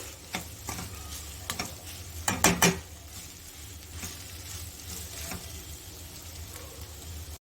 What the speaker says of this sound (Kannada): ಸ್ಟವ್ ಫ್ಲೇಮ್ನ ಸಿಮ್ಮಲ್ಲಿ ಇಟ್ಕೊಂಡು ಇದನ್ನು ಎರಡರಿಂದ ಮೂರು ನಿಮಿಷ ತಳ ಹಿಡಿಯದೆ ಹಾಗೆಯೇ ಹೀಗೆ ಮಿಕ್ಸ್ ಮಾಡ್ತಾನೆ ಇರಿ